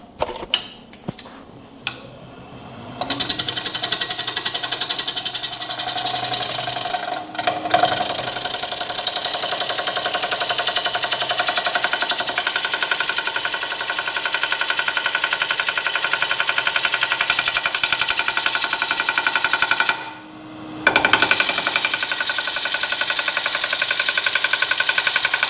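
A bowl gouge cuts a wooden bowl on a lathe, with a steady rapid tapping from a glue-filled crack in the spinning blank running under the continuous cutting hiss and machine hum, pausing briefly twice.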